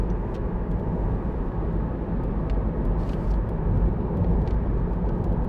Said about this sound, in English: Yeah, the van's undertaking him and going past now.